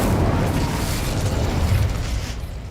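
Incendio fire spell cast in Hogwarts Legacy, a loud, sustained whooshing blast of flame that roars for nearly three seconds and then tapers slightly.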